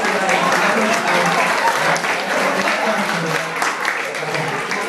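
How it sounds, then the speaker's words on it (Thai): Audience at a Thai public event or talk applauding to welcome a guest, dense and sustained clapping filling the whole stretch, with a voice talking underneath. "ขอเสียงปรบมือต้อนรับ"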